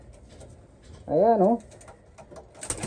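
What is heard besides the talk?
racing pigeon cooing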